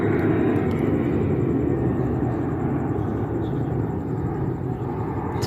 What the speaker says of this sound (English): That's a plane at very low elevation,